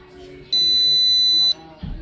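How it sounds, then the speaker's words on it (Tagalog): The control board buzzer of an Electrolux double-door no-frost refrigerator, under repair for a no-power fault, sounds one loud, steady, high-pitched beep lasting about a second, followed by faint background noise. "Yan, bali tumunog na yung pinaka-buzzer na ng ating board."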